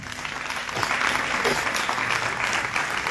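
A church congregation applauds to acclaim the Lord Jesus Christ during a weekly programme with a prayer vigil and fast, a dense, sustained clapping that fills the room for a few seconds.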